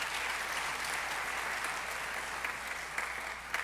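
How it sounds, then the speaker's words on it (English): Sustained applause from a synagogue congregation at a Yom Kippur service, steady dense clapping that stays loud and even throughout with a few sharper claps near the end, no voices over it. "Let's give them a big round of applause."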